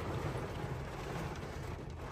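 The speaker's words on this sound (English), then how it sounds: "It's raining." Steady rain on a concrete pour at a construction site where radiant heat tubing is being set, a broad continuous hiss with a low rumble, close and even throughout with no talk.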